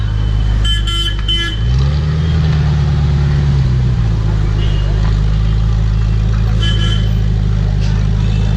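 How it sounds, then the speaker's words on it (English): A motorcycle engine idles steadily and is blipped once into a short rising rev before settling back, heard close and loud with faint voices around it, at a riders' meet-up with Oggy F. "Rev bomb, rev bomb, rev bomb."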